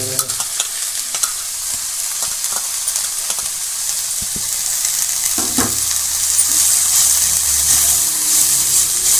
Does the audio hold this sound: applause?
no